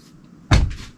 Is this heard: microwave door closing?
yes